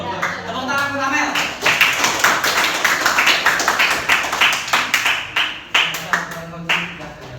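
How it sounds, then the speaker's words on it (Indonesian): A classroom group claps after a student's economics presentation, giving a burst of fairly loud, close hand claps over several seconds with voices audible around the clapping. "Tuh, tepuk tangan untuk Amel."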